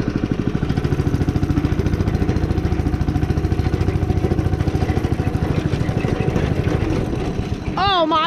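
A go-kart engine running with gas applied, a loud, fast, steady putter close by that drops off near the end, with a voice briefly speaking over it.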